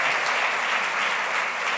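A church congregation claps together in a brief, dense burst of steady applause, loud and continuous throughout with no voices standing out.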